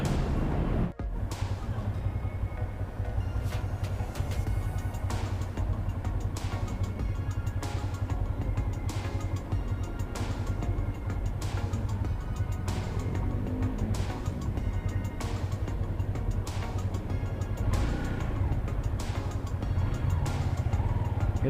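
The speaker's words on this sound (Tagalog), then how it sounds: "Tatamon tayo sa motor." A ridden motorcycle's engine drones steadily for the whole stretch, with low rumble, passing traffic and wind noise around it, continuous and close with no talking.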